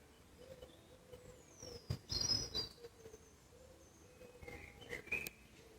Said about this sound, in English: Normally I can hear pigeons cooing.